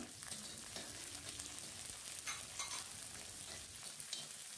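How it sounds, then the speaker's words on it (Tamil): Onions sautéing in a pan with mustard seeds, curry leaves and peanuts, heard as a faint, steady sizzle with a few light stirring scrapes, fairly distant and quiet throughout, with no voices. "இப்போ வெங்காயத்தையும் சேர்த்து ஒரு ரெண்டு நிமிஷம் நல்லா வதக்கிக்கோங்க"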